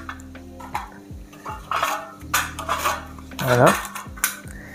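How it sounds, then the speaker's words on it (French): Aluminium ramekins clatter and clink against one another while being gathered on a kitchen counter for chocolate lava cakes, a run of close metallic knocks and scrapes; one brief word is spoken. "Je vais récupérer 6 ramequins en alu."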